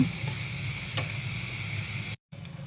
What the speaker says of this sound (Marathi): तुम्हाला आधी टाकायचा आहे कांदा, मग तो छान असा परतून घ्यायचा आहे लाल लाल होईपर्यंत